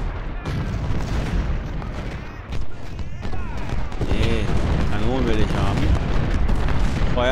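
Civil War cannons firing in a strategy game battle at Cold Harbor, repeated deep booms and rumbling blasts layered with crackling musketry, loud and continuous, while someone talks over the battle noise.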